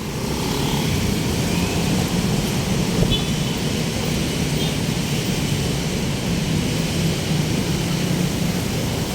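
Heavy rain pours steadily in a dense, unbroken hiss with a low rumble underneath, loud and close throughout, with no voices heard.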